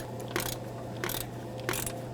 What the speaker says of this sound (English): I'm going to use a 13mm socket on this bolt. Break it free.